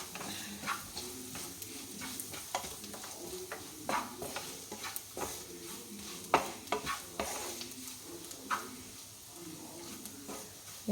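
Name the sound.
sautéing vegetables with black pepper in a pan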